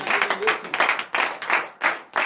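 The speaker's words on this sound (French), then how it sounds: "Veuillez vous lever sur vos pieds et donner de vives acclamations à notre Seigneur Jésus." Church congregation at a morning prayer service clapping in bursts with some cheering, loud and close, in uneven waves over about two seconds with a voice rising briefly.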